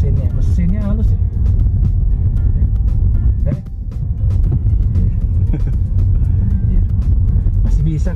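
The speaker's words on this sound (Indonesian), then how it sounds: "Halus ya suaranya mesinnya. Mesinnya halus ya." A 2013 Kia Rio third-generation manual hatchback hums steadily from inside the cabin on a test drive, a low smooth engine drone with road rumble, while someone talks over it throughout.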